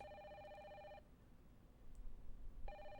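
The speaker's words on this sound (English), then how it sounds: "And the phone just starts ringing." A telephone in the video game Parasite Eve rings in two electronic bursts, one long ring cut off and then a second ring starting near the end, with low background noise between them.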